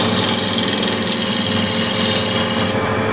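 A shear scraper rubs across the spinning surface of a wooden bowl on a lathe, a loud, continuous raspy scraping over the machine's steady hum, close up and without speech.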